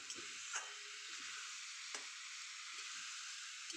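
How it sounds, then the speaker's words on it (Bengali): Spices sizzling in hot oil as they are stir-fried for paneer rasha, a steady close frying hiss with a few soft stirring taps and no talk. "এবার এটাকে আমি ভালো করে কষবো"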